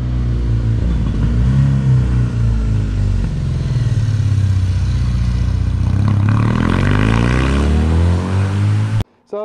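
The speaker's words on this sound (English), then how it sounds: "It's a really cool sounding exhaust system for a standard system." A 2019 Kawasaki W800 Cafe motorcycle runs close by, its engine and stock exhaust giving a deep, throbbing note that rises and falls through several revs and pulls before cutting off abruptly near the end.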